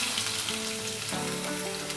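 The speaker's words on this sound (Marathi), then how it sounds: "आता ह्याच्यात आपण ठेचलेला लसूण घालायचे" A loud, continuous sizzle of crushed garlic frying in hot oil after mustard seeds, close and dense, with a faint background tone and no speech.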